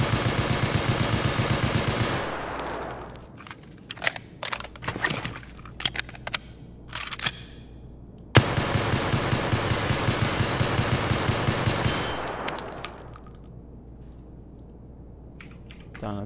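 SKS rifle with a 20-round magazine firing in Escape from Tarkov, heard as dense bursts of rapid shots, then a string of separate single shots, then another sustained loud volley, close and unaccompanied by speech.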